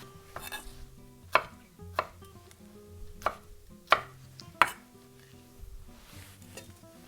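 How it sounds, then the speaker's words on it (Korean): Knife chopping tomatoes into potato-sized chunks on a cutting board for an old-style jajangmyeon, a handful of sharp, distinct board strikes spaced irregularly, close and clear with no talking. "토마토 똑같이 감자 사이즈로 잘라줍니다"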